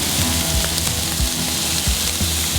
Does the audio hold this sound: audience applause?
no